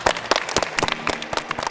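A small group of people nearby claps briefly in quick, uneven hand claps, with the individual claps sharp and distinct.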